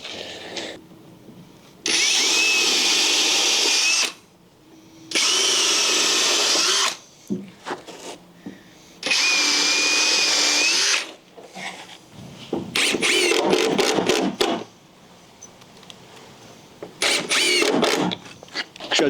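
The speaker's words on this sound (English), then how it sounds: "I do want to finish screwing these off" A power drill drives screws into deck boards on a deck built over a concrete slab, whirring in several bursts of a couple of seconds each, separated by short pauses and handling clatter.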